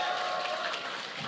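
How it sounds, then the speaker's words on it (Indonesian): Applause from a studio audience for producers walking onstage: a dense, even wash of clapping held throughout at moderate loudness, with no voices over it. "tepuk tangan."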